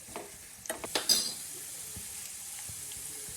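Curry leaves and garlic frying in oil for a spicy, tangy pandumirchi pickle, giving a steady close sizzle with a few louder crackles and stirring scrapes near the start.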